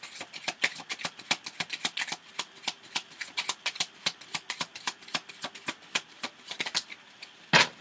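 Tarot cards shuffled close up in a steady run of quick, crisp riffling flicks, ending with one louder rustling burst, with no talk.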